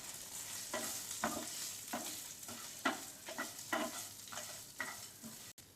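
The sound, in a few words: grated coconut being sauteed in pan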